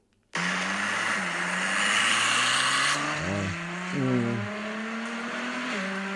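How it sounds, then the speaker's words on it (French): A sports car engine hums and rises in pitch, with a brief deeper burble breaking in midway as the exhaust valves open, before it settles back to a steady drone. "c'est le bruit des valves qui s'ouvrent"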